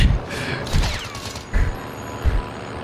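Video game gunfire crackles in several short bursts spaced through a tense online match, loud and close with a busy background.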